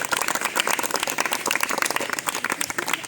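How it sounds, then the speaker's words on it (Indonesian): Students outdoors at a school lesson clap their hands together in a dense, brisk burst of applause that lasts throughout, close and lively with no speech over it. "tepuk tangan untuk kita semua dulu"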